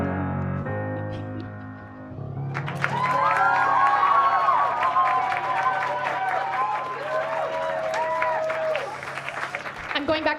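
Musical tones fade out, then an audience bursts into applause with cheers, whoops and shouting voices, loud and sustained after the song ends.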